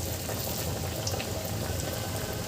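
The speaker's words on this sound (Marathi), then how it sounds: "हलके असे हलक्या अंगठ्याने असं दाबत गोल करून घ्यायचे आहे आणि असे तळून घ्यायचे आहे" Lentil vadas made from fresh pigeon pea (tur) lentils sizzle as they fry in hot oil, giving a steady, dense crackling hiss that runs evenly throughout with no talking.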